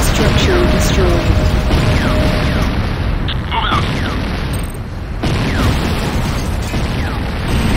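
A structure blows up in Command & Conquer Renegade with a loud, close, sustained roaring blast and crackling debris that swells again after a brief dip, amid other game sounds.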